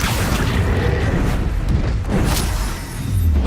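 Booming spell blasts and impacts from combat in the video game Hogwarts Legacy, a dense, loud run of explosive bursts and crackling hits with no pause, no voices heard.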